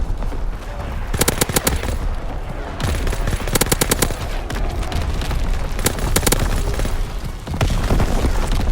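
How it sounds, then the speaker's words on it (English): Heavy gunfire and booming artillery in Call of Duty WWII, dense bursts of rapid shots and explosions layered into a loud, continuous battlefield roar. "Incoming enemy artillery."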